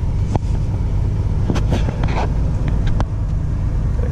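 Car fitted with Centramatic wheel balancers pulling away on a test drive, steady low engine and road rumble heard from inside the cabin, with a few clicks and knocks.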